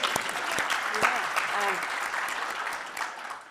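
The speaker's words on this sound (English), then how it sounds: "I need to clap for her again." An audience claps at a talk on race and sight in America, a steady wash of applause from a crowd with a brief voice speaking over it near the start, fading slightly toward the end.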